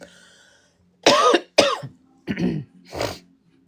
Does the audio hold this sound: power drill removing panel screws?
no